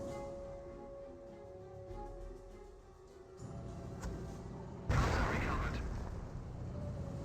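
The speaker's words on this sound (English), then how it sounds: "Mortar half-track barraging this general area" Mortar half-track barrage in the World War II strategy game Company of Heroes, distant thuds and pops rising to a heavy blast midway, followed by a rumbling roar, with a voice narrating over it.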